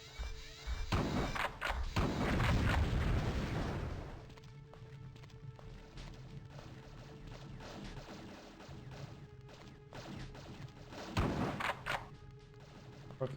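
Gun turrets firing in The Terminator: SkyNET video game, a loud burst of heavy crashing shots and impacts early on, then quieter scattered thuds and a final sharp blast over a steady game hum.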